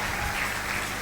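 A church congregation applauding the Lord, with dense continuous clapping from many hands that fills the room evenly and loudly for the whole moment.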